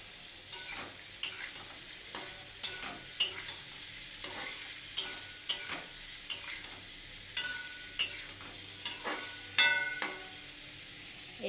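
Vegetable curry with turmeric stirred in a pan over low heat, a spatula scraping in a steady rhythm of about a dozen sharp strokes, close and clear over a faint sizzle.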